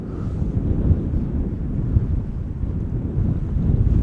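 Gusty wind buffets an outdoor microphone at Amsterdam Schiphol Airport, a continuous low roaring rush with uneven swells and no voices.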